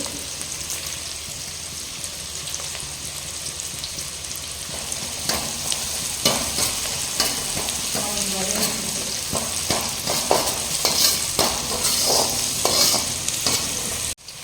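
Onions and rampa leaf fry in a pan while being stirred, giving a steady close sizzle throughout with repeated scraping strokes of the spoon growing busier toward the end.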